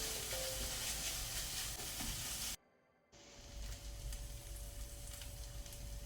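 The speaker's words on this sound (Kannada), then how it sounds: "ಈ ರೀತಿ ಮಿಕ್ಸ್ ಮಾಡ್ತಾ ಮಾಡ್ತಾ ಮೀಡಿಯಮ್ ಟು ಹೈ ಫ್ಲೇಮಲ್ಲಿ ಫ್ರೈ ಮಾಡುವ." Dill leaves, radish and corn sizzle and fry in a pan over medium-high flame while being stirred, a steady loud hiss that drops away briefly mid-way and then returns.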